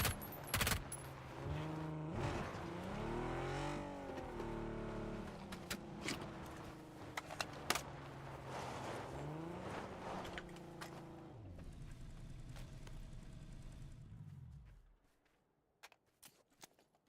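A car engine drives in PUBG, a steady motor hum that rises and falls in pitch as it speeds and slows, then cuts out near the end, leaving a few faint clicks and near silence.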